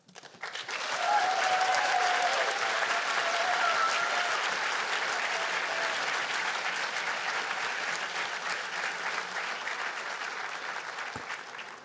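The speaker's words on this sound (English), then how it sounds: "let's have a round of applause for them again" Sustained applause from an audience at a Harvard Medical School PhD hooding ceremony in a large hall, dense and steady clapping that swells quickly and holds for about ten seconds before easing slightly.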